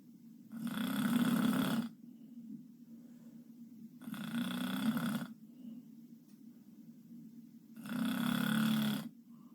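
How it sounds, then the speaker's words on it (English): A woman snores loudly in three long, rasping bursts, each about a second and a half, with quieter breathing between them, sounding congested as if she has a cold. "This Korean lady seriously needs to get her tonsils removed because she's snoring like she has a cold."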